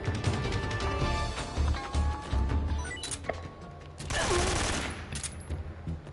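Shotgun blasts from a 12 gauge in Metal Gear Solid 3: Snake Eater, a few sharp bursts over busy game noise and music, with a heavier broadband blast near the end.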